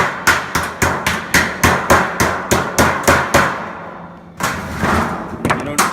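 A hammer strikes a sheet metal 90-degree fitting to work it into place, about a dozen sharp, evenly spaced ringing blows, followed by a pause and then a few more knocks and scrapes.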